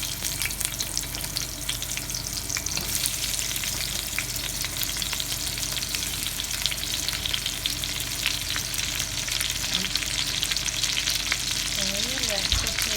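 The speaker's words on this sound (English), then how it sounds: "let's saute the onions" Onions saute in a pan with a dense, even crackling sizzle that holds steady throughout, plus occasional soft scraping of a spatula near the end.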